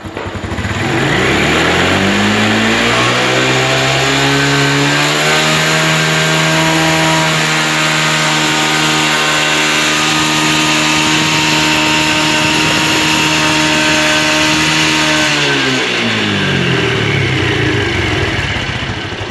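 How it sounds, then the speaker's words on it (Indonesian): A carbureted engine is revved by twisting the throttle, climbing from idle to a loud sustained high rev, holding steadily, then dropping back down near the end, close and alone. "Kita naikkan putaran mesinnya. Kita tarik handle gasnya."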